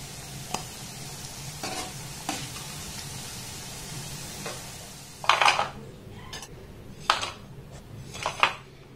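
Flour-and-sugar sweets sizzle softly in oil in a kitchen, a low steady fry hiss broken by metal clinks and scrapes of a utensil against the pan as pieces are lifted out, louder toward the end.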